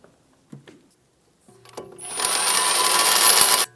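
A couple of light metallic clicks, then a loud, dense burst of rapid ratcheting as a sway bar link nut is snugged down on a 2013-2017 Honda Accord front strut assembly, stopping abruptly.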